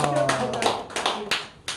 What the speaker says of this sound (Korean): 박수로 한번 감사하겠습니다